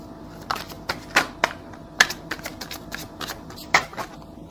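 Tarot cards shuffled by hand in a quiet room: a run of crisp riffling flicks and soft card slaps, irregular and close, with no voices.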